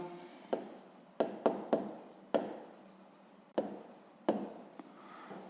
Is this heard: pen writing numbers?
yes